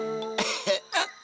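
A single sharp cough followed by a second rougher cough, close and fairly loud, after a brief tonal voiced sound.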